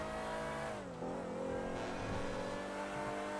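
Range Rover engine in GTA 5 revving hard, with pitch swooping down then settling into a loud sustained roar, close up and uninterrupted, no talking.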